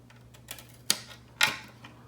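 Scissors snip through a Lexan RC car body shell, a few sharp crisp cuts spaced apart, close and distinct in a quiet room with no voices.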